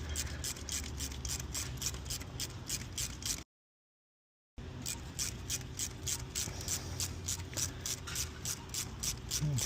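Seized glow plug being wound out of the #4 cylinder of a Holden Colorado engine, a steady rhythmic ratcheting click repeating close by, broken by a brief pause midway.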